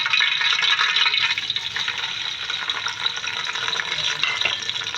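Two bunches of medium onions frying in half a cup of oil for chicken pulao, a dense steady sizzle that stays loud and even throughout, with no talk.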